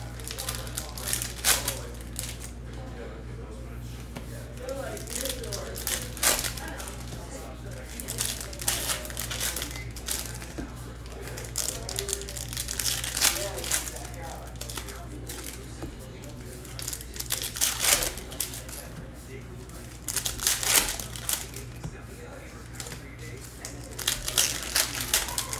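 Foil packs of 2021 Bowman Chrome Sapphire trading cards are ripped open and handled, with repeated close crinkling and tearing bursts over a low steady hum.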